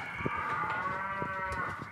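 A cow moos in a long, low, steady call on a farm, heard faintly and somewhat distant, with light background noise and no talking.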